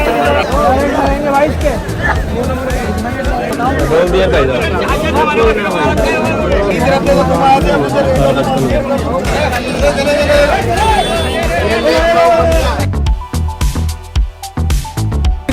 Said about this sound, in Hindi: खतरनाक भीड़ हो रखी है।